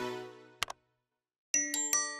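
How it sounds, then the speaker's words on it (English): A cartoon doorbell chimes in a treehouse scene: a sustained tone fading out, two quick bright dings, a pause, then a short melodic run of three ringing notes. "A doorbell."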